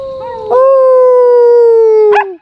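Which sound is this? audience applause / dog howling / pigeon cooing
dog howling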